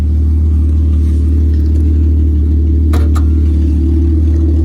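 A 1996 Jeep Grand Cherokee engine idles steadily up close, a constant low, loud hum with a faint clatter and a brief tick partway through.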